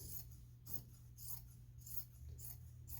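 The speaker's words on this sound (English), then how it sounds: "I'm gonna cut out this thick stitching" Scissors cut thick stitching out of fabric while old textiles are repurposed, giving about six soft, evenly spaced snipping crunches close to the mic in otherwise quiet surroundings.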